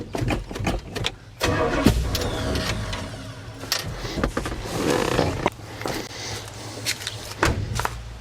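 A 1968 Pontiac Superior ambulance engine cranking and attempting to start, with repeated starter bursts, clicks and uneven engine revving throughout, heard up close.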